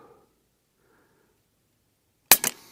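A Western Airguns Rattler .30 semi-auto big bore airgun fires an 80 grain slug, giving a single sharp, loud crack with a quick second pop after a quiet pause.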